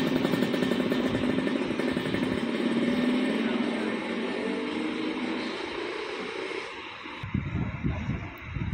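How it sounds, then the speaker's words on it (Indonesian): A motorcycle rides in pursuit of a bus in Aceh, Sumatra, giving a steady, close roar of engine, road and wind noise. The roar thins slightly, then turns bumpier and more uneven near the end. "Kita akan mengejar pakai motor."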